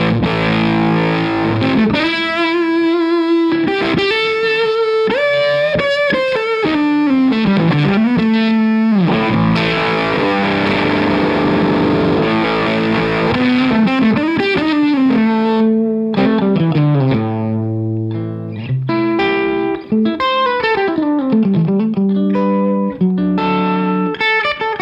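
An electric guitar runs through a Stumpbox Get Fuzzed fuzz pedal with the gold knob, playing loud, saturated sustained notes and bending lines with a thick fuzzy buzz, continuous and alone.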